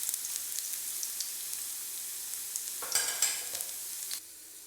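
Ginger sizzles and crackles steadily in oil over low heat while being stirred, with soft scraping strokes and a brief louder burst of frying before it quiets near the end.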